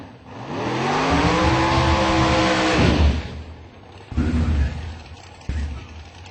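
A drag racing car launches with a loud rising engine roar that climbs for a few seconds, then breaks off, followed by two shorter engine bursts as it slides.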